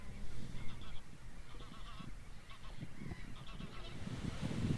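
A flock of wading birds passes overhead at Snettisham, their repeated honking calls rising and falling over a low whooshing rumble of wings.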